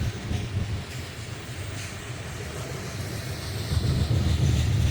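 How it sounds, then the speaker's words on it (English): Coal train with two locomotives and one DPU in Wyoming's Powder River Basin, heard as a steady low rumble that swells slightly toward the end, moderately distant with no talk. "Two locomotives and one DPU."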